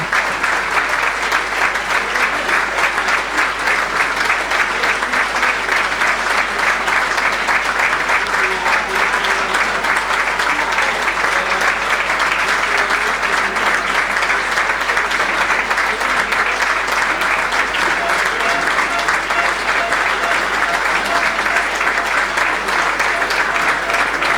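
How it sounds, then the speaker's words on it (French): A stadium crowd at an amateur football match between Mont de Marsan and Labenne claps steadily for a full minute of tribute applause, dense and loud with no pauses. "Donc 1 minute d'applaudissements."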